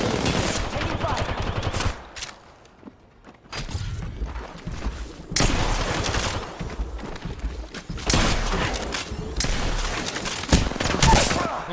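Video game gunfire during a competitive match, with bursts of rapid automatic shots and a brief lull before the shooting resumes, loud and dense throughout, with some voice chatter mixed in.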